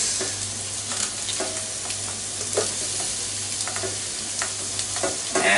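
Onions and cabbage stir-fry in a hot pan with a loud, continuous sizzle, broken by occasional knocks and scrapes of stirring, close up and without talk.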